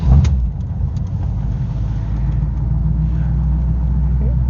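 A car with a 350 engine, Quadrajet carburetor, electric choke and automatic transmission catches and settles into a loud, steady low rumble close by.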